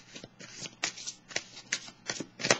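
Tarot cards are shuffled and drawn in quick, papery riffles and flicks, about eight short bursts close up in an otherwise quiet room.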